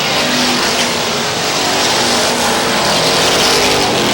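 Race cars roar wheel to wheel out of a corner at Star Speedway in New Hampshire, a dense, steady engine din that stays loud and unbroken throughout.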